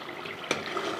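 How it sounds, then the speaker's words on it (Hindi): Water is poured into a pan of beef kofta curry to make the gravy, a brief, soft splashing hiss with a single sharper splash in the middle. "थोड़ा सा इस तरह करके हम इसमें ग्रेवी के लिए पानी शामिल कर सकते हैं।"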